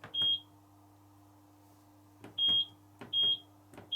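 A 1994 Hotpoint WD41 Ultima Aquarius Microprofile washer dryer gives short, high electronic beeps as options are selected, four separate beeps with soft button clicks, spaced irregularly over a quiet background hum.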